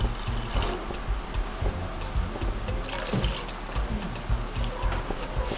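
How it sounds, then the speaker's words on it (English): A little water poured into a cooking pot, heard as a soft, continuous trickle and splash at moderate closeness, fairly faint, with no speech. "Okay, so we'll add just a little water."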